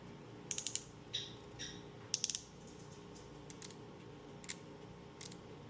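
An all-black TPOB Go nail clipper fitted with an Architek blade has its lever worked, giving a few faint, quick mechanical clicks and snaps in short bursts against a quiet background.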